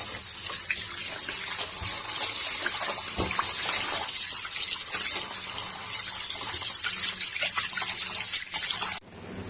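Tap water runs steadily and splashes over rice in a bowl, a constant close-up gush that cuts off abruptly near the end.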